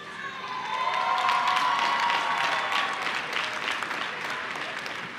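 Master's of Science graduates from the College of Sciences cheer and applaud at Georgia Tech's Spring 2025 commencement; a dense roar of clapping and shouts swells within the first second, then holds steady and fairly loud throughout.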